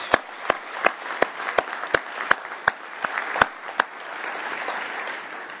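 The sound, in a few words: round of applause for conference committees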